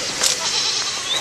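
A goat bleats in a short, wavering call, fairly close, over steady outdoor background noise at a zoo in Bucharest.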